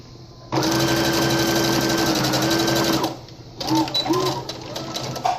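A sewing machine stitches a felt Christmas gift bag, running steadily for about three seconds, pausing, then resuming in shorter back-and-forth bursts for a backstitch; loud and close, with a voice speaking over it.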